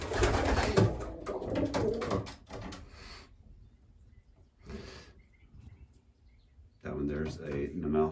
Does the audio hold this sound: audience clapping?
no